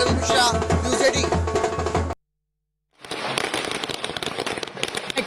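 Firecrackers set off by BJP workers celebrating outside the party office after the Delhi election result, a dense burst of crackling pops at close range, then a brief silence before another loud crackling barrage resumes.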